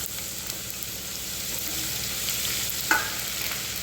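Garlic dropped into hot oil already crackling with mustard seeds and cumin, a continuous close sizzle with a brief sharper pop near the end.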